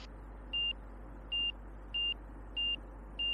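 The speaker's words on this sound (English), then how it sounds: "lining up to final. Get a nice steady tone." An angle of attack indicator in a light aircraft on final approach gives five short, evenly spaced electronic beeps over a steady low cabin drone.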